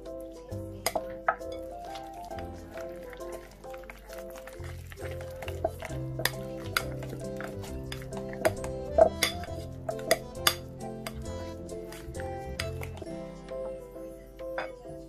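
A spoon stirring mashed potato with cream heated in a microwave for one minute, clinking steadily against the bowl with soft squishy scraping, close and fairly quiet, alongside a faint tonal hum.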